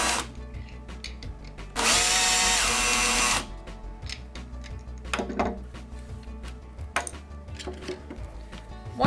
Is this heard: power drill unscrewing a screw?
yes